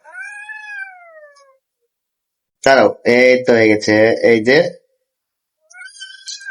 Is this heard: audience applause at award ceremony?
no